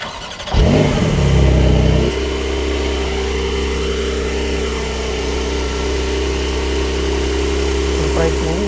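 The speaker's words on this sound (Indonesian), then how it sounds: "Memang ada rumble-nya dari mesin flat six-nya, tapi tidak yang meraung sangat keras." A Porsche 911's flat-six engine cranks over and catches, holding a loud surge for about a second before settling into a steady, low, rumbling idle that continues close up for the rest of the stretch.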